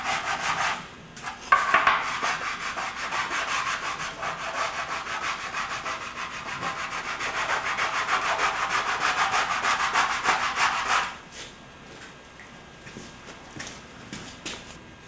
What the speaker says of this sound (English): And then with a sanding block, we'll clean it up.